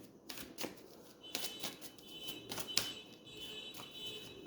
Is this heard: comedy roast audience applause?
no